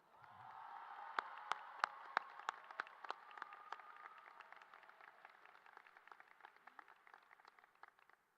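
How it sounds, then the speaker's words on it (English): Audience applause at a high school graduation ceremony, a broad wash of many hands clapping with sharp individual claps standing out early, steady and moderately distant, slowly thinning toward the end. "please give a nice round of applause to Mr. Bryce Brown"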